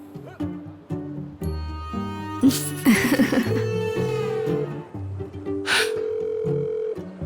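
A repeating electronic ringing tone from an unanswered phone call sounds in a steady pattern, with speech running over it in places.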